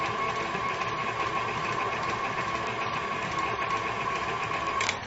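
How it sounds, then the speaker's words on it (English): An electric mixer creams butter and sugar for a banana bake on medium speed, giving a steady close motor whir and hum that holds evenly without pause. "So let's start creaming. And I cream on medium speed."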